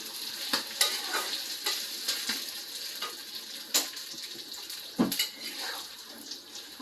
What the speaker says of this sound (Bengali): ভুড়িটা আমার হয়ে গেছে ভাজা ভাজা করলাম